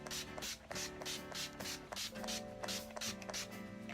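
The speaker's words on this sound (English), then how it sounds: "I'm just gonna kind of set my face with the Urban Decay De-Slick Setting Spray" Urban Decay De-Slick Setting Spray misted onto a face, a series of short hissing pump sprays in quick, fairly regular succession, close and soft with faint mechanical clicks from the nozzle.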